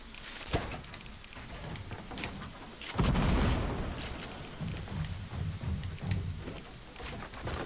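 Grenades going off in a shooter video game, a sharp blast near the start and a heavier boom at three seconds, followed by dense rumbling gunfire and battle noise.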